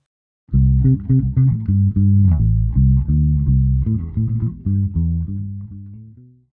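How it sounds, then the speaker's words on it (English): A bass guitar plays a steady line of deep, punchy notes in a driving rhythm, loud and close, trailing off at the end. "And this is the sound of a bass guitar."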